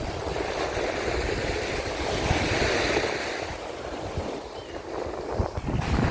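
Sea waves wash steadily onto the Odesa shore, a close, continuous surf roar mixed with some wind buffeting on the microphone and no talking.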